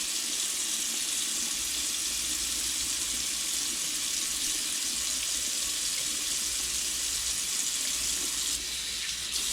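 A whiting fish fillet is rinsed under a steady stream of cold running tap water, a continuous close hiss and splash that holds evenly throughout with no talking.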